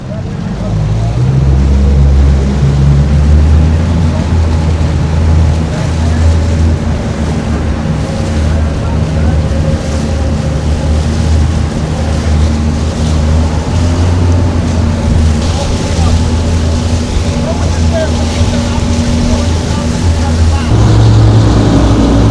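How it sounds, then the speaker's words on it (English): Single-engine offshore center console boat accelerating onto plane, a loud steady motor drone mixed with water rush and strong wind buffeting on the mic, with a voice talking over it. "One engine, and we're gonna see this thing get on plane."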